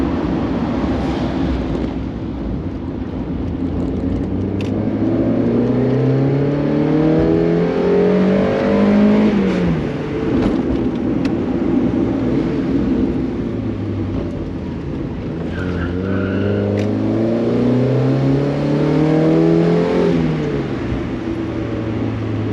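A 1.6-litre first-generation Mazda MX-5 roadster accelerates through the gears on the road, its four-cylinder engine rising in pitch with each pull, dropping at shifts, then climbing again; loud, close, continuous, with no talking.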